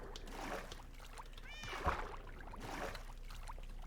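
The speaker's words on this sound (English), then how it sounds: "Cat." A Minecraft cat meowing near water, a short rising meow in the middle amid splashy game sounds, with a player talking over it.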